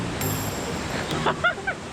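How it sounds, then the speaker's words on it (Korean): Dariang waterfall on Sobaeksan mountain in winter gives a steady rushing wash of water noise, with a few brief voices near the end. "여기 폭포 이름 다리안이거든"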